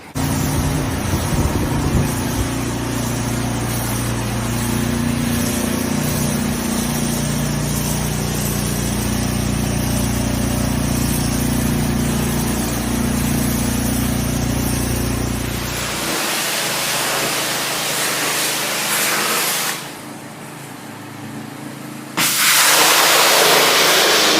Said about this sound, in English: We're in the blowing stage right now, getting the floor dry and prepped for the epoxy paint.